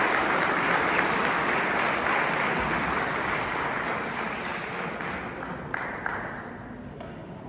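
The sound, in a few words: applause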